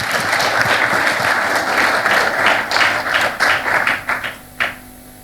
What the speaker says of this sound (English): They need a round of applause.